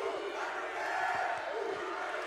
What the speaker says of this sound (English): Crowd going crazy here for BTT